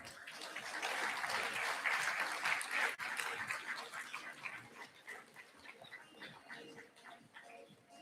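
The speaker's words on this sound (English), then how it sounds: "Please give a loud applause." Audience applause in a hall at a national mining conclave, a dense burst of clapping that swells early, then thins into scattered claps with some background murmur.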